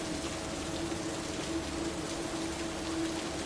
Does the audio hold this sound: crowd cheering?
no